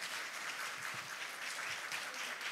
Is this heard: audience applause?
yes